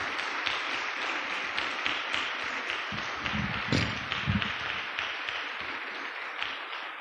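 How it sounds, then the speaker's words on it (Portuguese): A church congregation applauds together, a broad, steady wash of many hands clapping for several seconds, with a few louder, heavier bursts near the middle and no talking over it. "Dê um aplauso ao Espírito Santo,"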